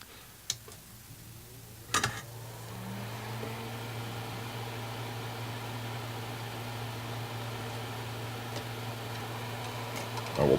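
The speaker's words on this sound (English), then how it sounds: "I'm going to turn the fan back on again" An electric fan runs indoors at an electronics workbench with a steady low hum that rises slightly in tone as it spins up, broken by a few sharp clicks and ticks.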